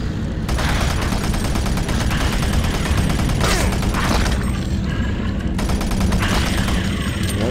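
Shotgun blasts and dense combat noise in the video game Doom 3 BFG Edition, loud and continuous with repeated heavy booms layered over a rumbling, chaotic background.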